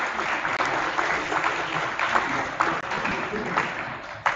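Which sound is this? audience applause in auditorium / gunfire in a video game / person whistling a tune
audience applause in auditorium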